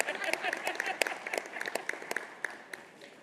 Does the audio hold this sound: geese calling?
no